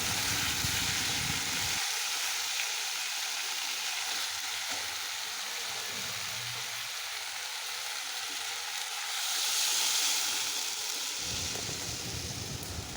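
Fish sizzling and frying in hot oil in a pan, a steady dense crackle that runs throughout with a slight swell near the end, close and fairly loud, with no talking.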